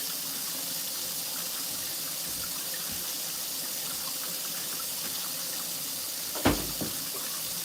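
Hot water runs steadily from a faucet into a sink, a soft continuous hiss and splash at moderate distance, broken near the end by a short clunk of something being set down.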